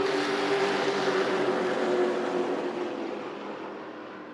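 A pack of Pro Late Model race cars roars together on a restart at a short oval track, a loud, dense engine drone that holds strong and then slowly fades as the field moves away.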